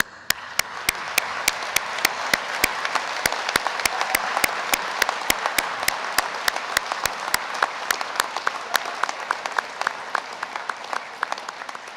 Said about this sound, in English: So please stand up and let's applaud.